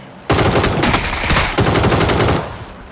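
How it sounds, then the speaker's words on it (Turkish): Loud, close automatic gunfire in PUBG on the Sanhok map, two sustained rattling bursts back to back, the second trailing off near the end. "Şu taraftan sıktılar ona."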